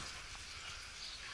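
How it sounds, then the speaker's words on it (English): Steady, hissing wash of rain falling outdoors, soft and continuous with no voices over it. "It's raining outside today."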